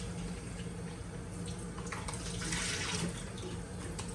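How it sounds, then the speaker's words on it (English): Steady running water from a tap splashes over a plastic food bag being rinsed out at a kitchen sink, a continuous wash of sound with faint crinkles near the end. "I'm going to rinse this bag out"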